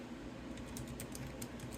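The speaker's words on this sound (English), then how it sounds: "typing this with a physical" Quick, light key taps on an Arteck backlit Bluetooth wireless keyboard, a soft steady patter of keystrokes over a faint background hum, no talking.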